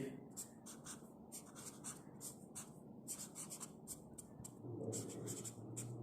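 A pen scratches out a math problem on paper in a class-eight geometry lesson, giving steady short strokes with brief gaps, faint and close, while a teacher talks over it.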